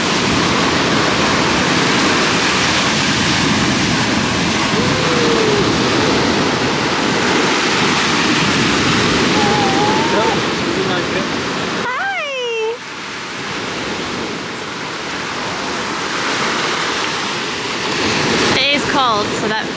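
Surf washes steadily onto a beach in Crete, a broad, loud roar that continues throughout, with a brief dip partway and some faint voices in the background.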